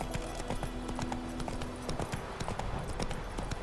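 Steady clip-clop of hooves from Roach, a horse in The Witcher 3 video game, moving at a brisk regular rhythm over a low background hum.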